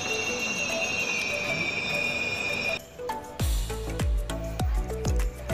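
Kolkata metro train near Khudiram station on the EM Bypass, running close by with a high steady whine that drops away, then a series of rhythmic, loud rumbling wheel clacks over the rails.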